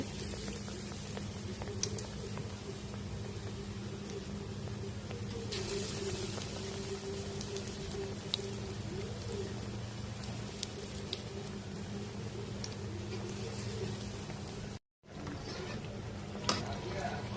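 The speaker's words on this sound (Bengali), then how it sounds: "এখানে এক পিস এক পিস করে ডুবিয়ে আমি এটা সম্পূর্ণ তেলে ভেজে নেব" Battered eggplant slices (beguni) deep-fry in oil with a steady, even sizzle and bubbling hiss that runs continuously, broken only by a brief dropout near the end.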